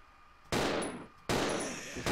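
Two heavy gunshots in Resident Evil 0, sharp loud blasts less than a second apart, each followed by a ringing decay, with a third shot just starting at the end.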